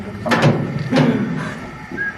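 A person on a Mollie Kathleen Gold Mine tour vocally imitates a train whistle, giving two close breathy woo calls followed by a softer trailing one, with other voices nearby.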